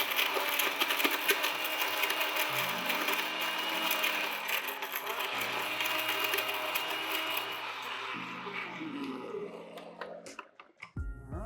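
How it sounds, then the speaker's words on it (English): Blender crushing a handful of ice cubes for a frozen margarita, a loud continuous grinding whir with pitch shifts as the load changes, stopping abruptly near the end. "So we're just gonna add these cubes straight into the blender."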